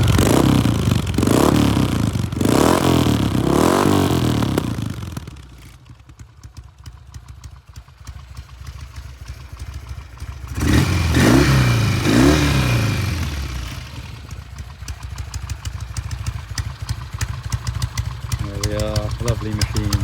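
A 1969 Norton Commando 750 Fastback motorcycle engine runs nearby, blipped into loud rhythmic revs at first, settling to a quieter idle, then revved again before dropping back to a steady burble.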